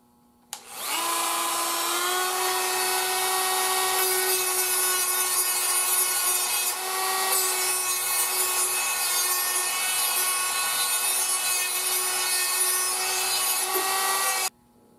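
A small grinder works a flat spot on a radio with a steady, loud, high-pitched abrasive whine that holds for about fourteen seconds without a break, starting abruptly and cutting off at the end.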